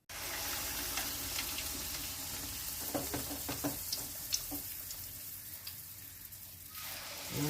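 Banana slices dipped in flour batter drop into a pan of hot oil for pazham pori, setting off a steady close sizzle and bubbling with small crackles and pops that run through to the end.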